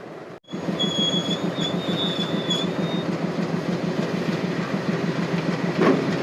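The Chennai Egmore–Kollam Express, pushed uphill by a WDG 3A banker locomotive, rolls steadily with rhythmic clickety-clack of wheels on rail joints and a thin wheel squeal, loud and continuous from close by.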